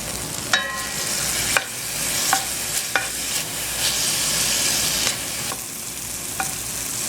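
Onions, garlic, tomato and pimento frying in a pot for Caribbean fish broth, a constant loud sizzle broken by several sharp clinks and scrapes of a spoon against the pot, close with no talking.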